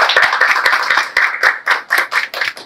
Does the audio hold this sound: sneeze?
no